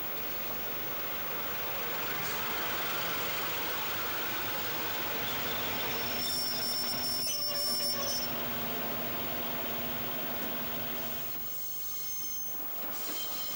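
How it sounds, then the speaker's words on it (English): A Sprinter diesel train rumbles steadily past in a Welsh valley, wheels squealing faintly on the rails, the engine drone fading as it pulls away into the distance. "leaving the Sprinter train to take its departure of the valley, bound for Bridgend and Cardiff"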